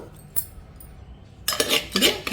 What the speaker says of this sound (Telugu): ముందుగా ఈ పచ్చిమిరపకాయని దంచుకోవాలి కంట్లో పడకుండా జాగ్రత్తగా దంచాలి